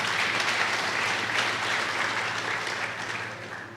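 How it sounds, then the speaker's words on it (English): Steady applause from an audience at a university commencement ceremony, honoring the UNAM staff, sustained and fairly even for several seconds with no voices over it. "So let's give all the staff members of Unam another round of applause."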